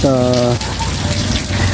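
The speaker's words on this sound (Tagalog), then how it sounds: "Eh, talagang inabot po tayo ng ulan. Medyo malakas din ho." Fairly heavy rain pours down in an alley, a dense, steady hiss and patter that fills the whole clip at high loudness, with a voice briefly heard at the start over it.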